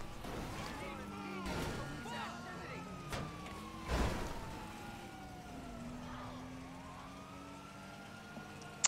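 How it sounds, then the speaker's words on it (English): Police car sirens in the video game GTA V Online wail in long rising and falling sweeps, layered over engine noise with a few sharp impacts, while players talk. "I fucking hate police cars."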